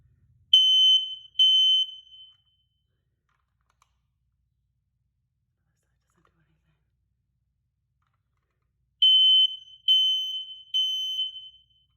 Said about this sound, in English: See, it only beeps once.